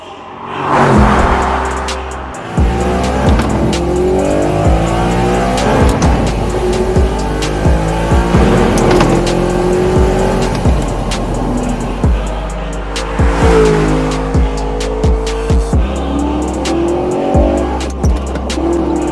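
An Audi R8 sports car drives hard, its engine revving up and down through repeated gear changes with bursts of tire squeal, loud and close throughout without any talk.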